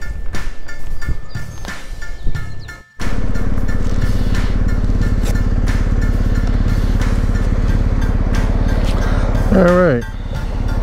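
A 2021 BMW R 1250 GS Adventure motorcycle engine running close by in a steady loud rumble after a brief dropout, with a short rising whine near the end and some talk.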